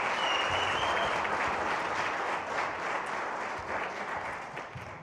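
Steady applause from an audience fills the whole moment, a dense even clapping that stays fairly strong before easing slightly at the end.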